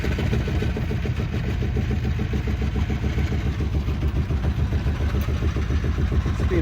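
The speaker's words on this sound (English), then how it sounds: "So what I'll do, I'll let the motor just run" The inboard motor of a Compass 29 sailing yacht runs steadily after a cold start, a continuous loud low chugging with an even, rapid rhythm, heard alone without talk.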